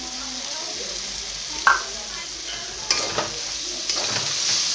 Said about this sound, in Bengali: লঙ্কা হলুদ টমেটোটা একটু হালকা যখন ভাজা হয়ে যাবে, তারপরে আপনি রসুনটা দিয়ে দেবেন।